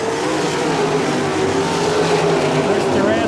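360 sprint cars roar around Ohsweken Speedway during a qualifying heat, a loud continuous engine howl with rising and falling pitch as cars pass, filling the whole moment.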